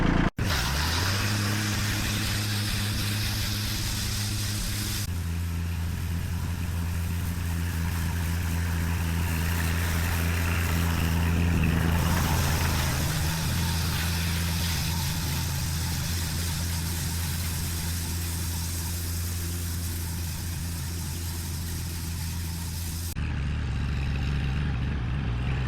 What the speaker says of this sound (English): We're gonna keep this tractor moving.